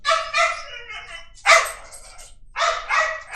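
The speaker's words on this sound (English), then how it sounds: "The dogs are going to go crazy for a little bit." Several dogs bark in loud, sharp bursts, grouped in three clusters of repeated barks with short quiet gaps between them, close by and with no talk over them.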